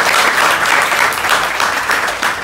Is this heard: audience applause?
yes